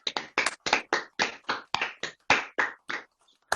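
Audience applause over microphones at an online talk, heard as separate rhythmic bursts of clapping in quick succession, a dozen or so distinct claps, fairly close and clear.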